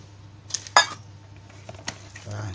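Carp fishing bait mixed with water is stirred in a container, with a couple of sharp clinks and scrapes between quieter rustling, fairly close.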